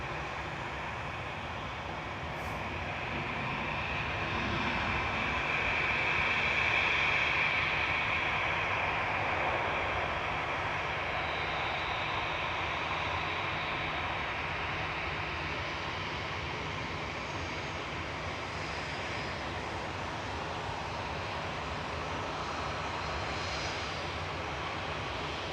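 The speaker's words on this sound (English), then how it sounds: "coming over the threshold is a 777 300 ER A6ETQ for Etihad Airways, bringing in flight 77 from Abu Dhabi." An Etihad Airways Boeing 777-300ER lands over the threshold at Manchester Airport, its jet engines producing a sustained roar that swells slightly early on and then holds steady, with no voices.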